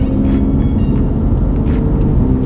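A BMW M2 Competition's engine runs with a steady low drone from inside the car while driving through its seven-speed gearbox, with no clear shift breaks.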